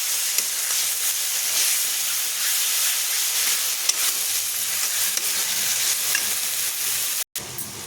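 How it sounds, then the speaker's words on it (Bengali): Spice masala frying with Kashmiri chili, a loud continuous sizzle and hiss close by with occasional stirring clicks, briefly dropping out near the end. "মশলাটা আমার কষানো হয়ে গেছে।"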